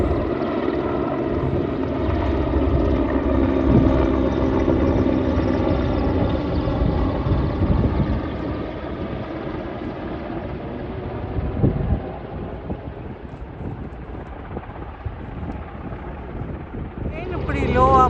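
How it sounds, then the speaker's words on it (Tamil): A helicopter flies low over a harbour where a large Norwegian navy ship is docked, its steady rotor and engine drone loud and continuous throughout, gradually easing slightly toward the end. "ஒரு ஹெலிகாப்டரும் வந்து நிற்குது"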